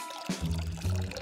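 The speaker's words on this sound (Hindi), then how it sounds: "ओह, मुझे इसे पानी देना होगा।" Water is poured onto a plant in a steady close stream with no talk, its splashing flow starting abruptly and running for about a second.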